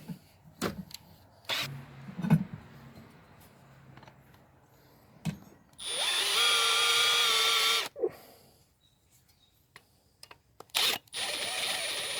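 A power tool deburrs a freshly drilled hole in a Husqvarna LC 221A lawn mower part, whirring steadily and fairly loud for about two seconds, then again briefly near the end, between scattered clicks and handling knocks.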